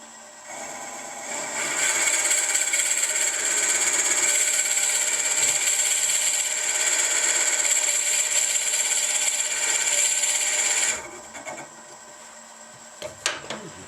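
A drill bit bores into a wooden pepper mill at 500, a loud steady high-pitched whine that starts after a second or two, holds for about nine seconds, then cuts off, followed by a few faint knocks.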